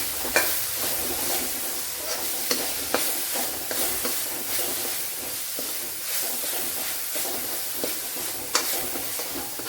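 Half a teaspoon of masala powder sautéing in hot oil for an egg roast, a steady close sizzle and hiss with repeated scraping stirs of a spoon against the pan, no talking.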